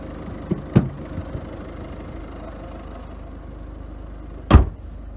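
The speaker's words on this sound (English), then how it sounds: "Lots of people like the sound of diesel engines, like especially me." A Citroen C4 HDi diesel engine idles with a quiet, steady low rumble, broken by two sharp, loud thuds, one early and one near the end.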